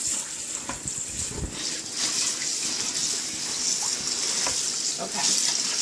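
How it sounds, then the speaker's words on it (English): Organic kale is swished and washed in a big bowl of water, a steady close watery rush with small splashes and sloshes throughout, no voices. "big bowl of water. A good wash."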